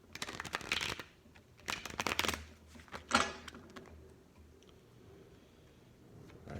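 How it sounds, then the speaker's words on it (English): Tarot cards are shuffled by hand in a series of quick riffling bursts, close and crisp, followed by a few softer taps and a quieter stretch. "Shuffle these fucking cards."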